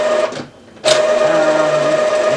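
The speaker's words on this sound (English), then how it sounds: "press the start button to start ink charging" Epson ET-2720 inkjet printer charging ink, a loud close mechanical whir with a steady tone that dips briefly, then resumes with a sharp start and holds constant.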